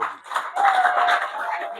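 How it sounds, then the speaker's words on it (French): A church congregation at an evangelism campaign breaks into loud applause, a dense burst of clapping that swells and holds close for under two seconds, with voices mixed in. "On acclame très fort pour la parole de"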